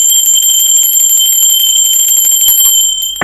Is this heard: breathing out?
no